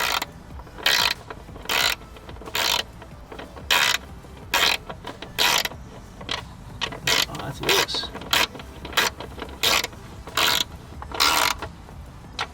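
A hand ratchet tightening the bolts of a carbon fiber engine cover on a Corvette C8, giving short, loud bursts of rapid clicking repeated roughly every second, up close in a quiet workspace.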